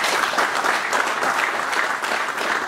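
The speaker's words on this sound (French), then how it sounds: "Vous pouvez vous applaudir." An audience at an event about organising elections in the DRC claps in dense, sustained applause that holds at an even level throughout, with no single voice standing out.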